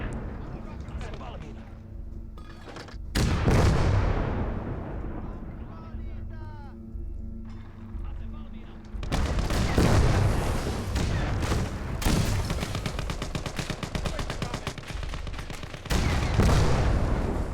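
Artillery fires in the Gates of Hell war game, with loud booms around three, nine and twelve seconds and dense bursts of gunfire between them, all under a voice talking.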